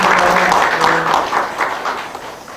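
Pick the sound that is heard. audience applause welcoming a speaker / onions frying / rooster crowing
audience applause welcoming a speaker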